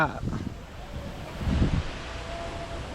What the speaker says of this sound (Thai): ลมก็มาครับ